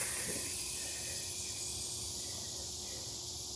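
A tubeless bicycle tire being inflated with compressed air from a pump, a steady, even hiss of rushing air that holds at one level and fades slightly, faint and alone.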